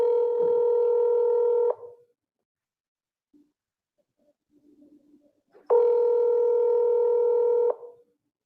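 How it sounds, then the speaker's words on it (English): Ringing tone of an outgoing phone call: two long, steady electronic buzzes about four seconds apart, with near silence in between. "I am calling Chad Daybell's phone number"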